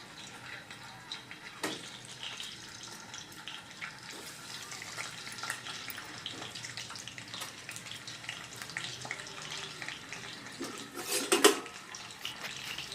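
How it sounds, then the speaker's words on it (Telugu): Boiled eggs fry in a bandi pan for an egg curry, giving a steady faint sizzle with a few soft clinks and a brief louder scrape near the end. "ఇలా ఎగ్స్ అయితే ఫ్రై చేసుకుంటున్నాను"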